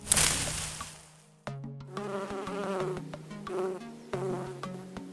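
Bees buzz close by around apple tree blossoms with a steady droning hum, rising and fading as they move, over a faint patter.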